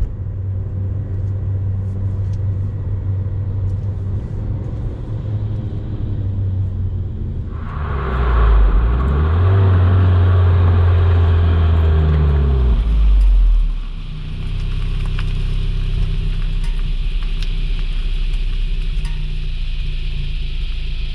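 A 2014–2015 Holden Barina turbo engine while driving, a steady cabin rumble that rises into a louder, deeper pull for several seconds as the car accelerates, then settles back to a lower drone, with no talking.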